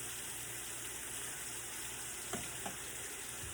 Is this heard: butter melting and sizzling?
yes